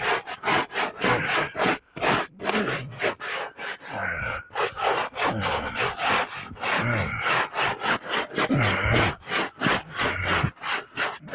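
Scrubbing dirt off a 1976 Cadillac, a steady run of rhythmic brushing and rubbing strokes, close and fairly loud, repeating quickly and evenly throughout without speech.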